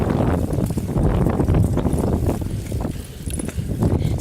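Very strong wind roars steadily and loudly across the whole stretch, a dense broadband rush that buffets the microphone with gusts rising and easing, outdoors near trees.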